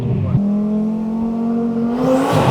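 A twin-turbo Audi R8 Spyder accelerates up close on a cold day: a loud, steady engine drone swells after a brief gap. A rising airy turbo whoosh builds toward the end.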